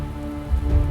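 Heavy rain pours steadily onto surfaces with a low, gusting wind rumble swelling underneath, dense and continuous throughout.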